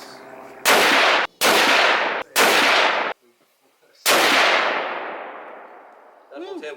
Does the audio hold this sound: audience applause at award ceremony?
no